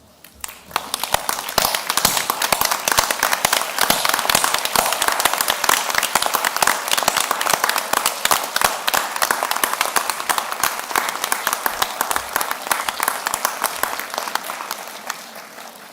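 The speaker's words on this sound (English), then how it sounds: "give them a bit of a round of applause" Sustained applause at a university graduation ceremony, a dense crackling spread of many hands clapping that swells quickly, holds strong for over ten seconds, then thins toward the end.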